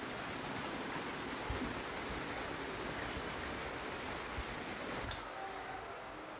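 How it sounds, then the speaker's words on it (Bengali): Steady rain falls outside in the early morning, a dense continuous hiss with scattered drops pattering on surfaces, unbroken throughout. "বৃষ্টি পড়ছে।"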